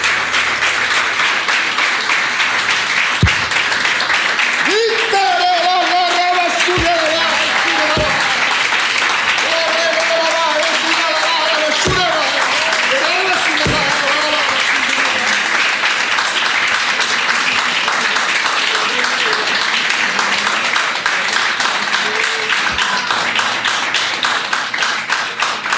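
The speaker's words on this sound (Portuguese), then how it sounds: "Aplauda Ele bem forte." A church congregation applauds loudly and continuously in a worship service, with a voice and musical tones sounding over the sustained clapping.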